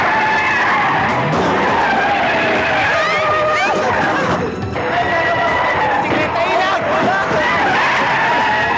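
A Mercedes car skids with a long, loud squeal of tyres while being parked, the screech wavering and sliding in pitch close by. A brief break interrupts it before the squeal resumes, with talk mixed in.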